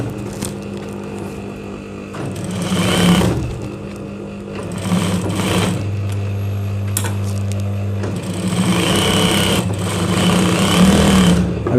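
A sewing machine runs in steady bursts while stitching a belt onto a salwar, its motor whirring loud and close with brief pauses and changes in speed between runs.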